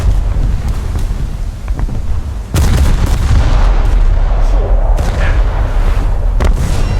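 Battleship 14-inch naval guns firing in the War Thunder game, a sudden heavy boom cutting through steady wind-like rumble, followed by sustained roaring blast noise and further sharp reports, loud and close.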